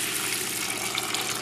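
Water pouring steadily into a pot of beans for cooking, a continuous close splashing fill with no pauses, heard alone without talk.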